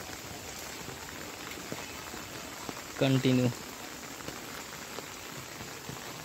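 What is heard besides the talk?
heavy rain with water flowing on road in Nagpur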